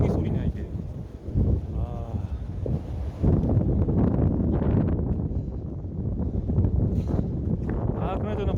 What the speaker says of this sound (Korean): 바람 소리냐, 저 선풍기 소리냐, 이게.